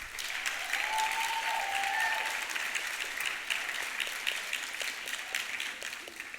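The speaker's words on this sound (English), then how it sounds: "Can we have a huge round of applause for him" Audience applause at the BTC 2024 opening ceremony: dense, even clapping from a large crowd in a hall, sustained for several seconds and slowly thinning, with a faint voice near the start.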